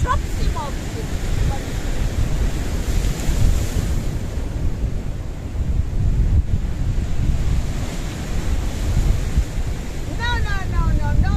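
Sea waves wash steadily against the rocks at Kato Paphos Harbour in Cyprus, a continuous loud surf roar with gusting wind noise on the microphone throughout.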